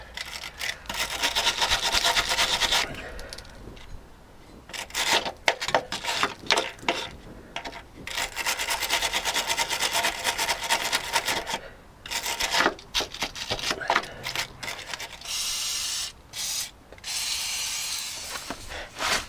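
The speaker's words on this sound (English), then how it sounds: "Wire brush." Wire brush scrubbing at a Land Rover Discovery 2 rear ride height sensor, close and loud, in repeated rasping bursts with short pauses between strokes.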